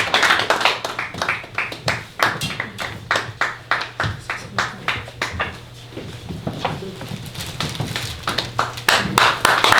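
An audience at a church ceremony for a graduate theology alumni association president's inauguration claps in loose, uneven bursts of sharp hand claps. The clapping is close and bright, with a brief lull midway, and some speech is faintly mixed in.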